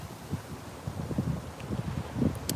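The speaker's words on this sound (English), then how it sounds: "It's so windy today." Strong gusty wind blowing outdoors near the Washington Monument in Mount Vernon, Baltimore, roaring low and buffeting the microphone in uneven surges, with a few faint higher sounds near the end.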